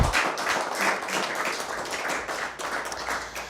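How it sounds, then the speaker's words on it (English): Audience applause at a Peoria Corps graduation ceremony, a steady moderate round of clapping lasting several seconds, heard from a middle distance with some room echo. "All right, let's give them all a big round of applause."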